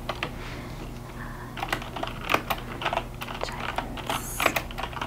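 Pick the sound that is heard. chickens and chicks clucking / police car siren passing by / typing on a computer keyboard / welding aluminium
typing on a computer keyboard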